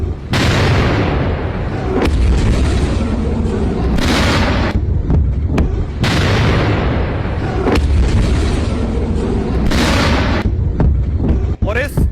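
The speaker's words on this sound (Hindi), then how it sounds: "एक के बाद एक मिसाइल हमले हुए" Iranian missiles striking an airbase produce loud, continuous rumbling explosions, with several heavy blasts rolling one after another in a dense, sustained barrage.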